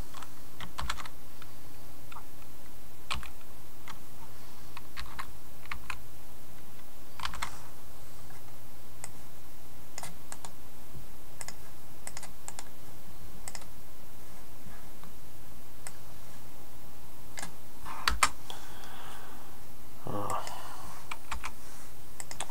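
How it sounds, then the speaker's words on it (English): A computer keyboard clatters in quick, steady bursts of clicks as HTML and CSS code is typed. Each key lands near and crisp over a constant low hum, with one sharper knock near the end. "Just type it in there."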